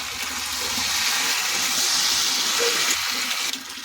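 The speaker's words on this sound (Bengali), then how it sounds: "চিংড়ি মাছটা দিয়ে দেবো। অল্প একটু জল দেবো," Water pours into a hot pan of prawn curry with taro and potato, making a loud, continuous rushing hiss for a few seconds that eases slightly at the end.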